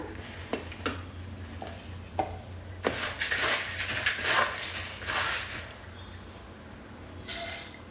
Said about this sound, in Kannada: ಮೊದಲಿಗೆ ನಾವು ಮಿಕ್ಸಿ ಜಾರ್ಗೆ ಸ್ವಲ್ಪ ಕಾಳನ್ನು ಸೇರಿಸ್ಕೊಳ್ಳೋಣ